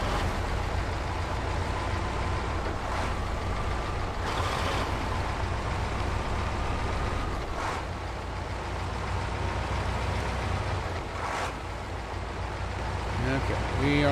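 A truck hauling a trailer with a loading crane pulls away, giving a steady low engine rumble that holds level from start to finish, with faint voices under it.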